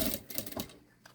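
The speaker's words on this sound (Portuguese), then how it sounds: "Dobro a minha fita e passo uma costurinha." A sewing machine runs a short, rapid burst of stitching along a folded backpack strap, quick mechanical clatter close up that stops within about a second.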